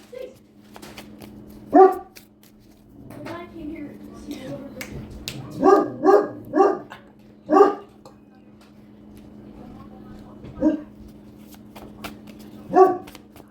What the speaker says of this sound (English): Pardon the barking.